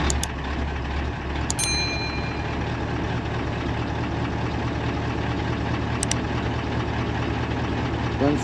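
A MAN KAT truck engine runs at a steady, loud idle after an alternator repair, a continuous low rumble broken by a couple of brief high electronic beeps.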